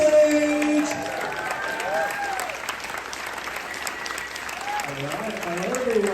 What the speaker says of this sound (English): Big applause going around.